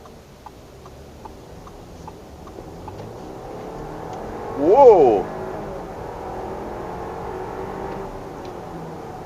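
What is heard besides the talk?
Audi Q5 accelerating hard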